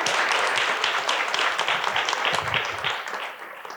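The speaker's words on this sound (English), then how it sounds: "Clap it up for the panel." A panel audience at an International Women's Day soirée bursts into dense, steady applause, many hands clapping close together, holding loud for several seconds before thinning slightly at the end.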